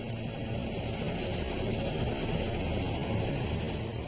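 Firefighting helicopters flying over a blaze give a steady, dense rotor and engine roar with a broad whooshing wash that holds constant throughout, loud and unbroken, with no voices.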